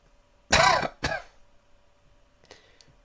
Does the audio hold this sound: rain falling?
no